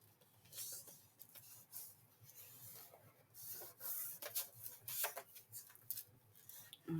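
Paper is scored freehand along a fold line, giving soft, faint rubbing and scraping strokes in short bursts close by.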